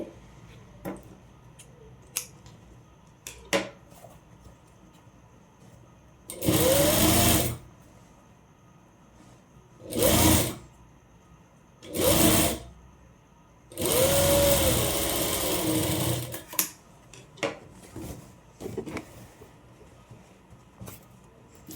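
Sewing machine stitching the side seam of a one-piece umbrella frock, several loud separate runs of whirring stitching between quiet stretches with small clicks and fabric handling.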